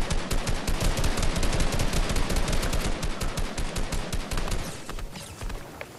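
Rapid automatic gunfire in Fortnite, a dense, loud burst of closely spaced shots that runs for several seconds before thinning into a few scattered reports.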